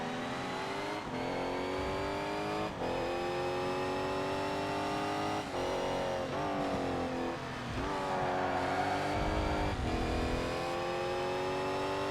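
Race cars in ToCA Race Driver 3 during a GT Tuning Cup race, with a continuous loud engine whine that rises and falls through gear changes and throttle lifts, with no talk over it.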